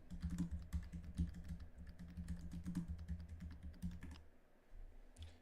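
Fingers typing on a computer keyboard that sometimes falls asleep, a quiet, steady patter of clustered key clicks with short pauses, close and alone before trailing off near the end.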